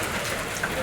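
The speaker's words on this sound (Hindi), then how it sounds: "लाहौर में ओले पड़ रहे हैं।" Hailstones pelting down in Lahore during a sudden storm, a dense, steady hiss of hard impacts close by with no break through the short stretch.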